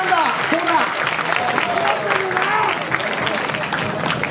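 A crowd at the B-Boy Park 2017 dance battle event applauds loudly and continuously, with a voice speaking over the clapping throughout.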